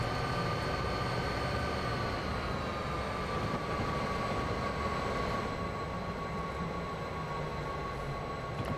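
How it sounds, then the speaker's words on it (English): A train in Train Simulator 2022 on the Mount Shasta Line rumbles past with a steady, dense roar and a faint high tonal whine, continuous and close for the whole stretch. "Another train waiting."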